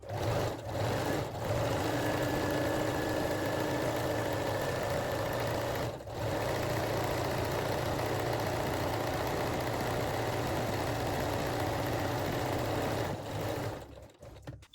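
A sewing machine runs steadily and loudly for about thirteen seconds, stitching fold-over elastic onto the waistline of Brazilian thong panties, with one brief pause near the middle before the motor winds down.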